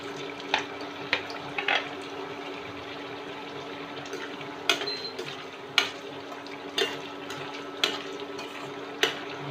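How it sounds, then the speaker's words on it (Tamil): Potato french fries frying in hot oil give a steady, moderately loud sizzle, broken by sharp clicks and taps from a utensil against the pan. "இதை போட்டு ஒரு 5 நிமிஷம் நல்லா பொரிய விட்டுட்டு எடுத்துடலாம்"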